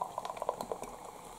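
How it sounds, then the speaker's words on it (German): Red Bull Kiwi-Apple energy drink is poured into a glass, giving a brief, quiet, fizzy trickle with small bubbling pops. "Ich gieße es hier erstmal ein."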